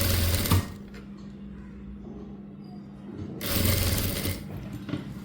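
A sewing machine stitches a blouse in two short bursts of rapid mechanical clatter, close and clear. A quiet pause falls between the bursts and no one speaks.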